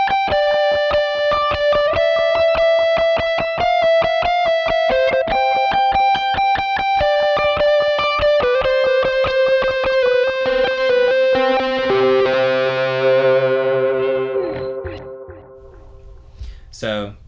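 An electric guitar runs through a Rat distortion pedal with delay, playing a driven, sustained melodic line of picked notes that ring into echoing repeats and fade out at the end.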